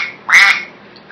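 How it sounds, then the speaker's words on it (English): A duck gives a single short nasal quack, close and fairly loud, against a quiet background. "That's a wise quack."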